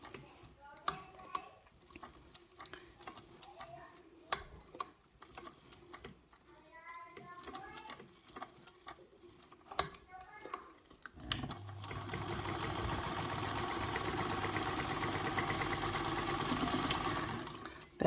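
Sewing machine stitching a curved corner on a bag: first a series of short, separate needle strokes with clicks and brief pauses, then a long, loud, continuous run of fast stitching up close, with no talking.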